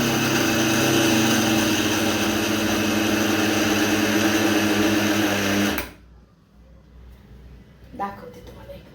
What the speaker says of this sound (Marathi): तर चला मिक्सरला